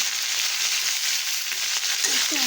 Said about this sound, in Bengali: আগে আলুগুলা আমি মাছের মতন আগে ভাজবো